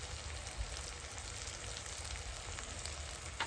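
Duck meat and spice masala sauté in hot oil with a steady, soft sizzle and faint stirring, continuous and low in level with no voices.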